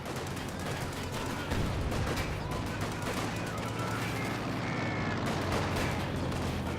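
M1919 machine guns rattle in a World War II strategy game match, dense overlapping bursts and distant explosions forming a continuous roar of battle noise.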